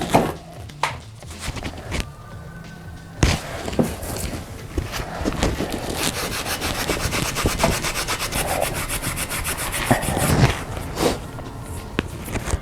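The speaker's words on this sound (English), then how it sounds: "anywhere I can't get the wheel, I sort of hit it with some Scotch-Brite" A 2006 Mini Cooper S R53 engine block is scuffed with an abrasive wheel and a Scotch-Brite pad, giving steady close rubbing and scraping with occasional knocks, and no talk.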